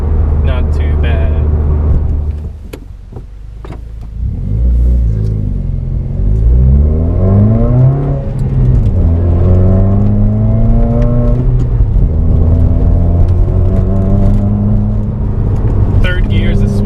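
A 2015 Subaru WRX engine pulls hard in third gear, a loud close rumble that climbs steadily in pitch with one dip partway through as revs build, continuous under occasional speech.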